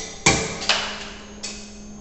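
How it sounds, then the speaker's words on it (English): Pendulum impact testing machine whose released hammer swings down to strike and break a material specimen: three sharp, ringing impacts spaced unevenly, each decaying quickly, with a steady low hum beneath and no talking. "then hammer is swinging, and it will already strike the material, and specimen get failed."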